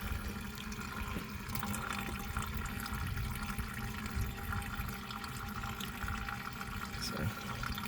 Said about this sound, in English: I'm in the process of draining all the antifreeze out of my radiator